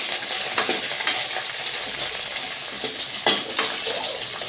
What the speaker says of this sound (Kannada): ಇವಾಗ ಅಷ್ಟರಲ್ಲಿ ನಮ್ಮ ಸೌತೆಕಾಯಿ ಕೂಡ ಸ್ವಲ್ಪ ಎಣ್ಣೆಯಲ್ಲಿ ಸಾಫ್ಟ್ ಆಗಿದೆ